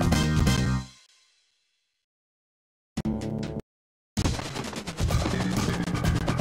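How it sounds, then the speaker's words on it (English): Arcade gunfire from The Outfoxies comes in loud rapid bursts, cut by sudden silences, then a dense sustained volley of shots and game sounds. "Gun. Gun. Gun. Grenade. Gun."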